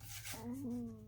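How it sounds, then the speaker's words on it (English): A brief, low gurgling stomach growl during a woodworking session building a kids' activity box: a single rising and falling rumble close to the microphone, lasting under half a second over faint background hiss, with no talking. "Excuse me, that was my stomach."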